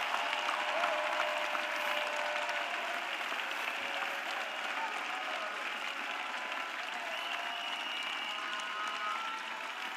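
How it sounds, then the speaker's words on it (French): Church congregation applauds for Jesus Christ during a prayer and intercession service, steady sustained clapping from a large crowd throughout, moderately distant and even. "Let us clap for Jesus Christ"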